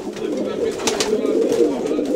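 Close, steady cooing from a loft of racing pigeons, overlapping low throaty calls rolling on without pause and no voices on top.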